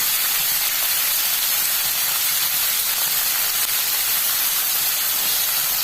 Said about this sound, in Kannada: ಇವಾಗ ನಾನು ಫ್ರೈ ಮಾಡ್ಕೊಳ್ತಾ ಇದ್ದೀನಿ. ಹಾಗೆ ಮೆಣಸನ್ನು ಸಹ ಸೇರಿಸ್ಕೊಳ್ತಾ ಇದ್ದೀನಿ